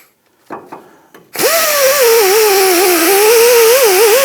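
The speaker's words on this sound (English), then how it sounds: "I'm going to go ahead and use a little cookie on my air tool." An air tool spinning an abrasive disc against the inside of a 2006-2010 Hummer H3 front wheel hub to clear scaly rust: a few short revs, then a loud steady whine that wavers slightly in pitch as it grinds, close up.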